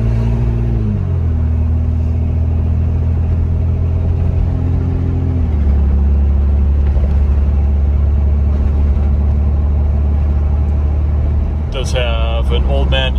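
A 1995 Toyota Land Cruiser with a 4-speed automatic and lifted suspension driving on an evening road in Utah, giving a steady low engine rumble with a gear shift, the tone stepping as it goes.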